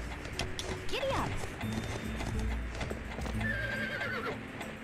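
Galloping hooves clip-clop from a horse in the Barbie Horse Adventures video game, paired with a whinny that rises and falls, over steady game music for about five seconds.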